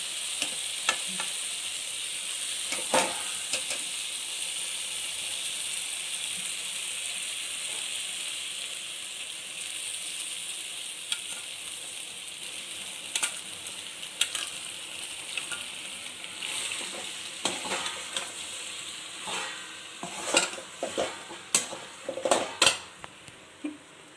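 Pasta frying and being stirred in a pan with sautéed ingredients, a steady sizzle punctuated by frequent scraping and clinking of a utensil against the pan, growing busier toward the end.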